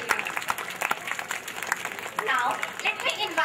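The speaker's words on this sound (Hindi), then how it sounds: "जोरदार तालियां सोमवीर सिंह लोहान जी के लिए।" Audience applause at a school annual function in Jhajjar, a dense wash of clapping that swells toward the end, with a voice speaking over it.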